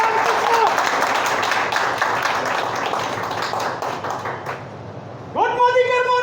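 Enthusiastic crowd applause at a business plan meeting in Farrukhabad, welcoming a guest to the stage; the clapping gradually thins and a voice then speaks over it.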